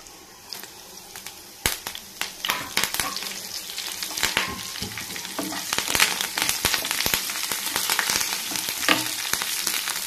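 Curry leaves crackle and sizzle in hot oil in a pan for a sweet pumpkin curry with jaggery, sharp popping bursts building into dense continuous frying, close and alone.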